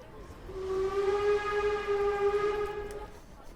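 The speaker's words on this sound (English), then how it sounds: "A train whistle." A steam train whistle sounds a single long, steady blast over a murmur of many voices, rising clear above the crowd noise and holding for several seconds before cutting off.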